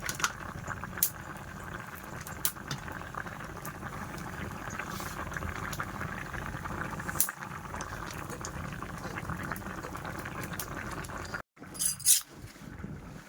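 A thin fish curry of pond-caught pomfret with drumsticks, potatoes and lentil dumplings simmering in a pot, a continuous low bubbling with scattered clinks, close and steady, ending with a brief pause and a couple of clatters.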